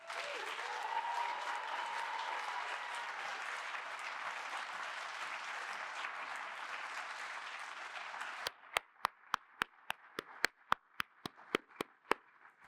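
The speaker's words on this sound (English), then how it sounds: "let's give her another round of applause" A crowd applauds an award winner for several seconds in dense, steady clapping, then it breaks into a dozen scattered, sharp single claps that fade out.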